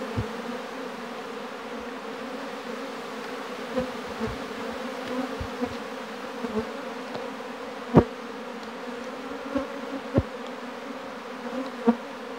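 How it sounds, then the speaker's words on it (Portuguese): Honeybees from a populous captured swarm drone steadily during an Apis hive inspection, a close, continuous buzz with scattered soft knocks and clicks from handling the hive. "Muita abelha."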